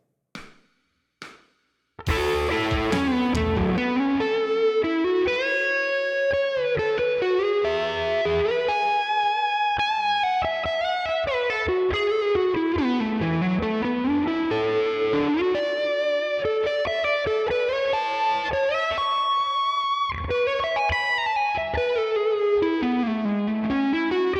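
A distorted electric guitar plays a fast, winding solo with sustained bent notes over a steady backing track after two brief opening hits.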